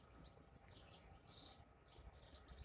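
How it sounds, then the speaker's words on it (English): Birds sing outdoors in early spring, faint scattered high chirps and tweets at a distance over a quiet background, with no talking. "So the birds are singing out here."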